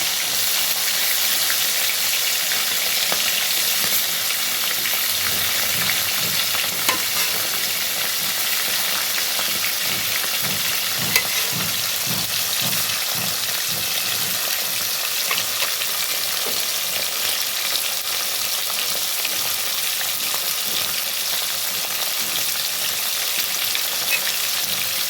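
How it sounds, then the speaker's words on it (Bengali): Bhetki fish pieces deep frying crisp in oil, a constant loud hissing sizzle with light bubbling and faint stirring, close up and unbroken, no talking. "ভেটকি মাছের কাটাগুলোকে এরকম করে কড়া করে ভেজে নেবেন বন্ধুরা"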